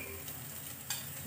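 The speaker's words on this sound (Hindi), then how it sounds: "थोड़ी सी भाजी को इस तरह से बढ़िया अकोड़ लेना है, मतलब थोड़ा सा सेंक लेना है" Spinach greens pan-roasting make a faint, steady sizzle, with soft scraping as they are stirred and a brief brighter crackle near the end. No one speaks.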